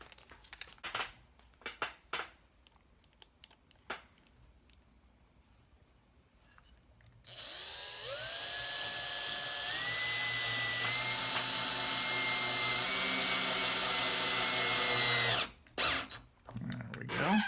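Power drill driving a couple of one-inch number 6 screws into a pressure pot tray, a steady loud whine rising in pitch as it runs for several seconds, preceded by quieter handling clatter.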